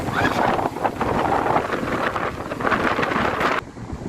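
Wind blows across Lampu Satu beach in Merauke and buffets the microphone with loud, gusty rumbling and rushing that ease off near the end.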